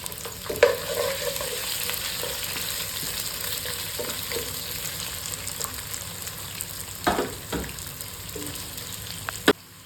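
Onions frying with browned garlic in a pan, an even moderate sizzle with occasional spatula scrapes and taps, close and uninterrupted by speech.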